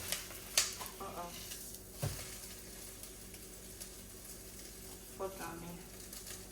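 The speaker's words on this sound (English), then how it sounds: "so now I'm gonna put my sausage in." Sausage frying in a pan makes a low, steady sizzle, broken by a few sharp clinks and scraping knocks of a utensil against the pan, moderately close.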